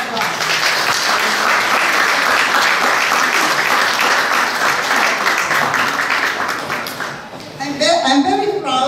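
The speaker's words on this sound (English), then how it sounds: "Ladies and gentlemen, let's give her a round of applause." Audience at a 75th birthday party breaks into sustained, dense applause that fills most of the stretch, then fades out as a voice begins speaking at the end.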